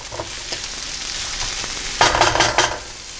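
Sisig ingredients sizzle and fry in a hot pan while being stirred, with a steady crackle that swells into louder scraping and stirring bursts near the end; no one talks.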